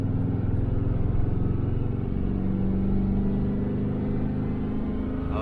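A 1968 Chevelle Nomad, back on the road after 32 years and running in tow-haul mode, pulls hard through its gears with a steady, loud engine drone from inside the car, no talking.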